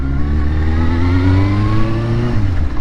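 A Suzuki GSXR1000 sport bike engine pulls hard under acceleration, its loud, continuous rising whine climbing steadily in pitch close by, with no voices.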